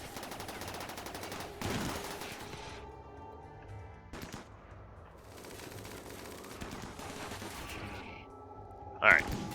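Scattered gunfire in a video game battle, a few sharp shots and short bursts over a steady background hum, moderately loud, with a voice talking alongside.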